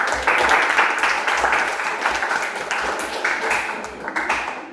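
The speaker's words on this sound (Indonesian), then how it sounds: "Oke, kita beri tepuk tangan lagi." An audience at a classroom group presentation claps in a dense burst that fades gradually over a few seconds, loud and close, with some voices mixed in.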